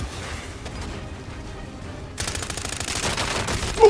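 Gunfire in the video game Call of Duty Warzone: a quieter stretch of noisy action, then a sudden loud, sustained rattle of rapid shots that fills the second half, with no talking.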